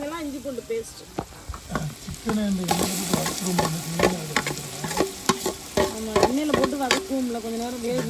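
Spices and chillies sauté in a pan for fish biryani, with close, steady sizzling broken by repeated scraping stir strokes of a spoon across the pan throughout.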